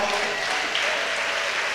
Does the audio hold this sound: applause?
yes